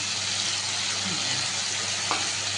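Radhuni seeds are tempered in hot oil alongside a paste of mustard and green chilli, producing a steady, close sizzle with a brief stirring scrape partway through.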